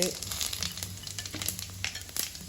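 Fenugreek seeds, cinnamon, bay leaf, cardamom, stone flower and fennel fry in hot oil for a curry, giving a close, steady sizzle with crackling pops throughout.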